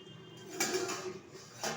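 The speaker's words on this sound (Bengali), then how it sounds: "ঢাকনাটা তুলে দিচ্ছি" A metal lid lifted off a cooking pot of simmering Malabar spinach, a soft clink followed by louder brief rattles and a second knock near the end, close but quiet, with no talk.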